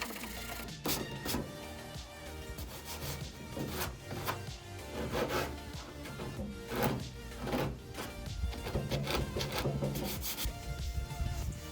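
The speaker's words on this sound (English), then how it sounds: "so I'm gonna sand it down and do the next filler" Body filler patched over a rust hole on a car hood is sanded down by hand. Steady, rasping strokes scrape back and forth close by, with no talking.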